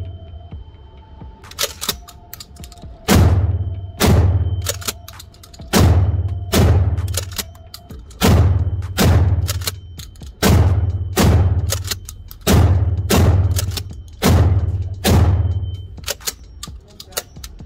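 A DP12 double-barrel pump shotgun fires about nine loud, booming shots at a target. They come in a steady rhythm roughly one second apart, each followed by a short decaying tail, with a brief metallic rattle between some of them.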